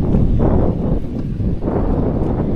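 Loud wind buffets the microphone in continuous gusty rumbling outdoors in Nanaimo, with no voices heard.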